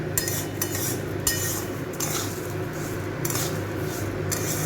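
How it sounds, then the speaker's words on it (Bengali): A spoon stirs sugar into rice frying in a pan for polao, giving repeated metallic clinks and scrapes in an irregular rhythm over a soft, steady sizzle. "এই চিনিটাকেও এর সাথে খুব ভালো করে মিশিয়ে নেব।"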